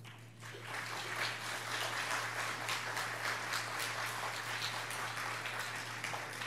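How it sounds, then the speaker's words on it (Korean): A church congregation at a Wednesday service applauds as an elder comes forward: a dense, continuous wash of clapping that sounds somewhat distant, over a low steady electrical hum, with no speech. "우리 김진수 장로님 나오실 때 큰 박수로 환영해 주시기 바랍니다"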